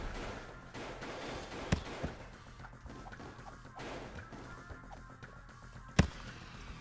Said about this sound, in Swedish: De där explosionerna.